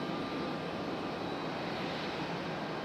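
An arriving airplane on approach to Raleigh-Durham airport makes a broad, steady engine roar at constant loudness, with no voices.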